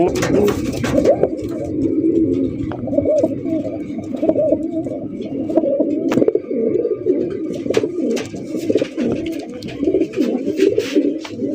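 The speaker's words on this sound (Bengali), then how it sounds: "দেখেন কত সুন্দর একটা বোম্বাই কবুতর" A large Bombai pigeon coos in low, repeated throaty calls, close by and continuous, alongside other pigeons in a loft, with people talking in the background.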